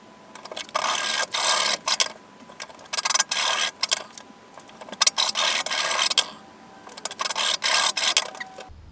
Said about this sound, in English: put it back in the vise and just quickly file off the sharp edges